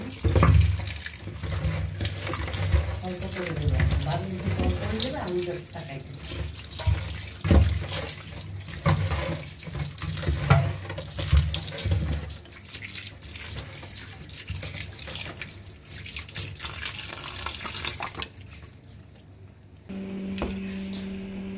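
Greens meant for cooking with eggplant and potato are rinsed under a running kitchen tap, water splashing steadily into the sink with squishing handling sounds, loud and close, until the flow stops near the end.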